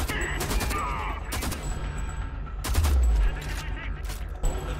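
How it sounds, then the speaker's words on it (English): Gunfire in the Homefront video game: repeated loud broadband bursts of shots, with a heavier rumbling volley near the middle. "how about shooting?"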